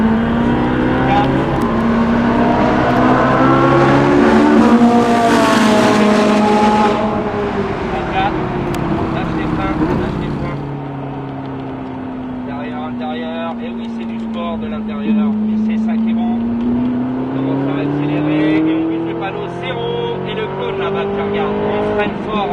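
Race car on a circuit at Albi pulling hard through the gears, a loud close engine note rising and falling in pitch with shifts, heard from onboard with a voice talking over it.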